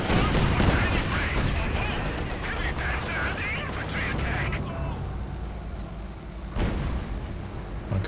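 A Katyusha rocket barrage in a strategy video game, heard as a rumbling run of overlapping booming impacts that fades and then flares once more, under a commentator's steady talk.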